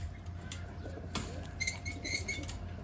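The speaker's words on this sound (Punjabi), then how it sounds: "ਆ ਲੋ ਜੀ ਪਰਿੰਦਾ ਛੱਡਤਾ" A pigeon released from a village rooftop flaps its wings in a brief flurry, soft close flutters over a quiet outdoor background, with no talk.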